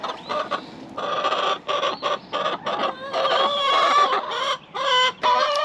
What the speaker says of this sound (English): I think the best part of putting new chickens out is this is the first time they've been outside